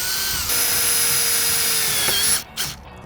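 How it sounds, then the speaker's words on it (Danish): Power driver sinking self-tapping screws into pre-drilled holes on a noise barrier fence, a loud steady high whine that holds for over two seconds, then cuts off into short bursts as the screw seats. "Så er vi klar til at skrue de selvskærende skruer i de forberedte huller."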